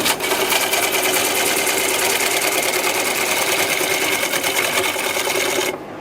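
Pine bowl spinning on a wood lathe as a bowl gouge cuts out the bottom material of the punky, split blank, giving a steady, loud, continuous whirring scrape that holds throughout and stops abruptly near the end.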